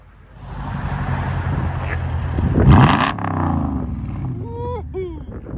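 A 2009 Mercedes-Benz E550 AMG with a 5.4L supercharged V8 and true dual straight exhaust revs up from idle into a loud, rising roar, then drops back, with voices reacting nearby.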